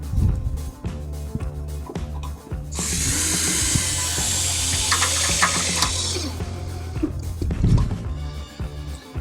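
A power drill drives 3/4-inch Tech screws through a stair rail clip with a number 2 square drive bit, a loud steady whirring run of several seconds, framed by clinks and handling noises before and after.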